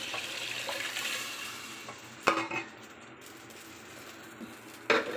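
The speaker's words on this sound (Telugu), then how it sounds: "ఇప్పుడు వాటర్ వేయాలండి" Water is poured into a pot for bagara rice, producing a steady, moderately quiet rushing hiss. Two sharp clanks of utensils against the pot stand out over the pour.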